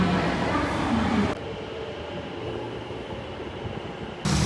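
A metro train rumbles loudly, then the noise drops to a steadier, muffled hum for a few seconds before the louder roar returns.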